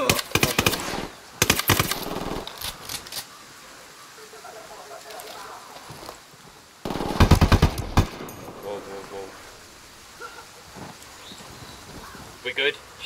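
Bursts of submachine gun fire in a Ghost Recon: Wildlands firefight, loud rapid volleys near the start and again around the middle, with quieter scattered shots and game noise between them and voices talking over parts.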